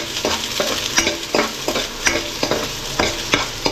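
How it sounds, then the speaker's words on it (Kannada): Chopped onions frying in a pan for vegetable sambar, a steady close sizzle with repeated scraping stirs of a spoon roughly every half second, no voices. "ಕಂದು ಬಣ್ಣ ಬರೋವರೆಗೂ ಈರುಳ್ಳಿನ ಚೆನ್ನಾಗಿ ಫ್ರೈ ಮಾಡ್ಕೋಬೇಕು."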